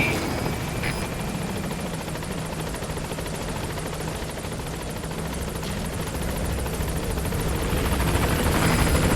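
A helicopter arrives at a landing zone in Metal Gear Solid V, its rotor beating as a loud, continuous, steady drone throughout with no talking.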